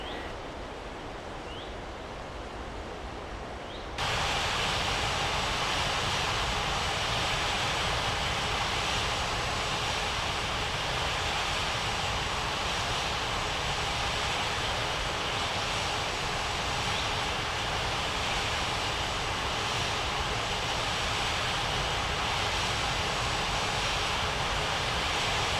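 A KLM airliner on final approach to runway 23 at Springbrook Airport in a flight game, a steady loud roar of jet engines that swells in abruptly and holds evenly throughout.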